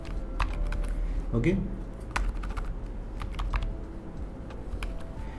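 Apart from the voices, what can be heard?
typing on a computer keyboard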